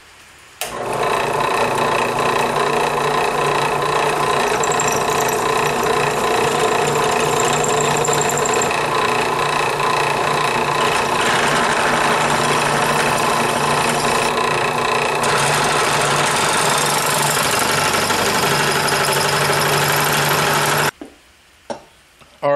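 A power drill bores holes in a custom halo LED headlight pod housing, holding a loud, steady whine for about twenty seconds before stopping and leaving a few faint clicks.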